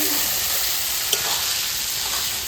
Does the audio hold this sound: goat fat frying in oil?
yes